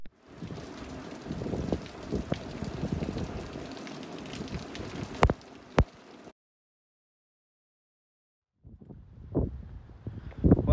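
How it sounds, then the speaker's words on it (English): Rain falls steadily outdoors in Tenerife, a soft hiss with a couple of sharper spikes, then cuts to silence for a couple of seconds before faint rain noise resumes. "it's the rain, so enjoy the rain"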